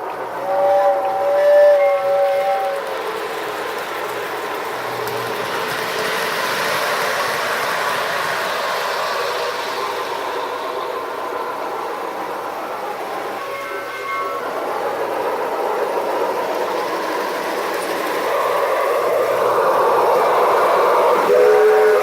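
A Polar Express model toy train runs through a Christmas snow village, its steady rolling clatter continuing close by with a couple of short whistle toots near the start and a brief one near the end, no talking.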